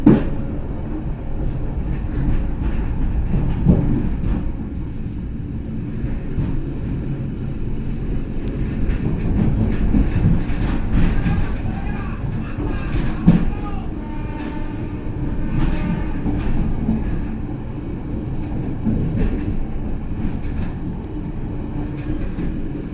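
Argo Merbabu passenger train rolling along double track, a steady loud low rumble of wheels and carriage noise heard from inside, with occasional clanks and rattles throughout.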